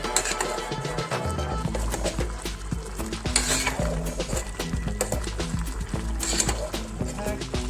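A spice and colouring mixture is stirred into hot oil during Ugandan-style home cooking. Close spoon clatter and pan knocks come in quick irregular beats over a light sizzle, with a voice faintly under it.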